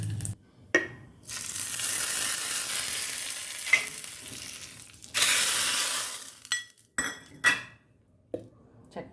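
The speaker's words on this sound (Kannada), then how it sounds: "ಅದಕ್ಕೆ ಸಾಸಿವೆ ಕರ್ಬೇವಿನ ಸೊಪ್ಪು ಹಾಕ್ಕೊಂಡು ಹಾಕ್ತೀನಿ" Mustard seeds and curry leaves hit hot oil for a chutney tempering, bursting into loud sizzling crackle, framed by clattering pots, spoon scrapes and clinking utensils.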